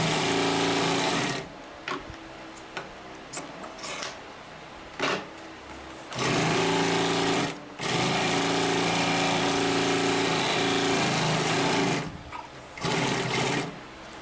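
A Consew P1541S-CC industrial sewing machine stitches through eight stacked fabric layers over seams, running in several loud, steady bursts of motor whir and needle chatter separated by short pauses.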